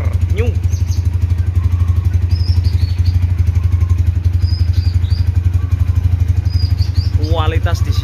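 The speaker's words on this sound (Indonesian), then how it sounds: "Stasioner standar khas dari Tiger Revolution" A Honda Tiger Revolution GL200R motorcycle engine idles steadily and loudly up close, a constant low throbbing rumble with faint mechanical clatter, while a voice briefly speaks near the end.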